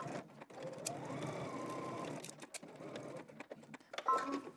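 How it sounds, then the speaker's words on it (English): A sewing machine runs down a seam in short, stop-start bursts, quiet and fairly close, with small pauses between runs. "we're gonna head to the sewing machine. We're gonna stitch down."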